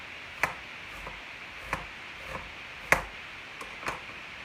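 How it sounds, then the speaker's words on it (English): A knife cuts thin slices of onion on a chopping board, giving sharp single taps at irregular intervals, close and fairly quiet, with no talking. "I have my chopping board over here, and I have my onions. I'm making thin slices like this."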